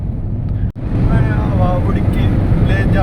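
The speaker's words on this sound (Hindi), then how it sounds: "देख लो गाड़ी 140 जा चुकी है।" Car speeding along a road at about 140, a loud steady rumble of engine, tyre and wind noise from inside, briefly cut off for an instant before resuming, with a faint voice in the background.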